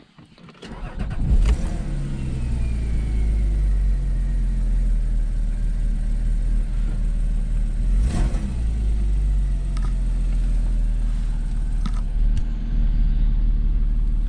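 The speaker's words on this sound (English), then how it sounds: "Let me just start the car up." A Porsche Cayman S 987.2 with PDK cranks and fires up with a brief rev flare, then settles into a steady, deep idle rumble, close by, with a couple of small blips along the way.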